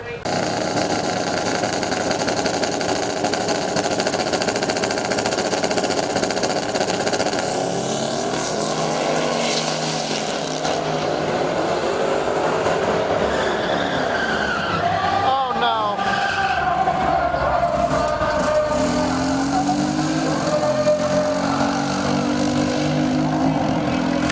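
Drag race cars make passes down the strip at a street-car drag event, a loud continuous engine roar that rises and sweeps in pitch, heard from trackside for the whole stretch.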